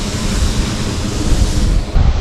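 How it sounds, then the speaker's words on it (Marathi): A small waterfall at Naldurg fort with a very low, thin flow of water, giving a steady, broadband rushing wash close by with no talking. "नरमादी धबधब्याचा पाण्याचा फ्लो फार कमी आहे पाऊस कमी असल्यामुळे"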